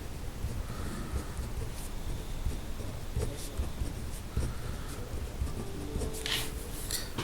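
A pen or marker scratches steadily across a surface while a probability rule is written out, with soft, continuous strokes and small taps, close and fairly quiet.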